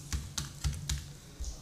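Mobile number typed on a computer keyboard: five distinct, close, fairly quiet key presses in an even rhythm over under two seconds, with no talk.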